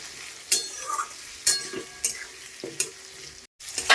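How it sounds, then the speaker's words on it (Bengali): Chopped potato and tomato fry in a pan as a spatula stirs them, bringing several sharp scraping clanks at irregular intervals over a low sizzle, close up and without speech. "সুন্দর করে নেড়ে চেড়ে আলু টমেটোটাকে ভেজে নিতে হবে ভালো মতো"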